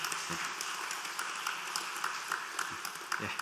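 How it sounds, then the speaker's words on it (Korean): A church congregation at a Sunday service applauds in celebration, steady sustained clapping filling the room throughout, with scattered individual claps standing out near the listener. "큰 박수로 축하해 주시기 바랍니다."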